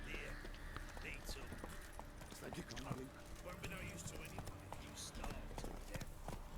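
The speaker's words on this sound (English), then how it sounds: "Which horse is mine? Is this my horse?" Hooves of a horse in The Witcher 3 clip-clop in a fast, steady rhythm, sitting mid-distance under constant game ambience and scattered effects, with speech-like murmuring mixed in.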